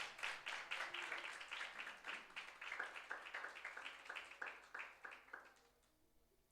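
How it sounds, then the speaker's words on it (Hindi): A church congregation at a Sunday sermon claps together in a steady, quick rhythm, moderately distant, before the clapping fades out. "यीशु मसीह के लिए तालियां बजाएं कलीसिया।"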